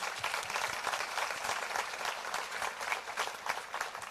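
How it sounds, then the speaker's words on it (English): Applause from the crowd at the 2023 STXIFF film festival awards ceremony, a sustained, fairly even patter of many hands clapping in a hall, with no speech over it. "a round of applause once again to all of those making films"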